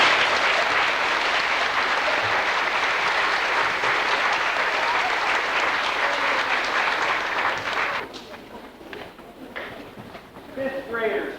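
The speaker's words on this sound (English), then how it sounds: "Let's give them a round of applause." An audience at a 1990 elementary school fifth grade graduation claps loudly and steadily for about eight seconds before it fades to scattered claps and murmuring voices.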